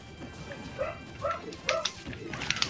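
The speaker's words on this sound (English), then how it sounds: "No, that's my dog." A pet dog yipping and barking in short, close, excited bursts, several quick woofs with soft whimpers in between, over a low room hum.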